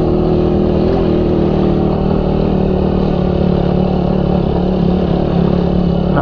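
Suzuki Raider 150 carburetor motorcycle climbing a steep uphill road, its engine droning loud and steady under load with a continuous near rumble throughout.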